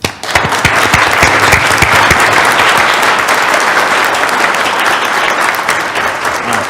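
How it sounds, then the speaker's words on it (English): Round of applause from the audience at a High Point city council meeting, loud and sustained, many hands clapping densely and evenly throughout. "So if we could all just recognize them by a round of applause."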